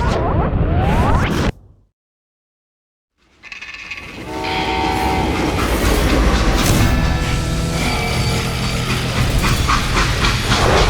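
A freight train in the Call of Juarez: Gunslinger game rumbles loudly after a brief silence, wheels clattering and metal screeching steadily up close, with horn-like tones.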